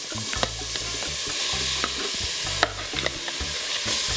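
Mashed vegetable mix frying in two tablespoons of olive oil in a pan, a steady close sizzle broken by scraping stirring strokes and occasional clicks of the utensil against the pan.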